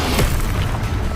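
The Incendio fire spell in Hogwarts Legacy goes off as one short, loud whooshing boom of flame that fills the brief moment.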